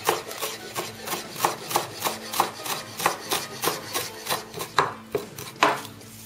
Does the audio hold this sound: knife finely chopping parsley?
yes